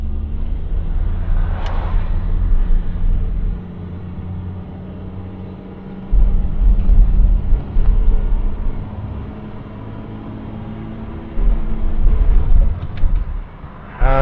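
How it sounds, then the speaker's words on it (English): A Triumph 2500 saloon with a three-speed automatic pulls away on the road, its engine note rising in a loud interior drone, easing off and building again as it accelerates, with steady road rumble. "We shall check our blind spot and we shall accelerate away."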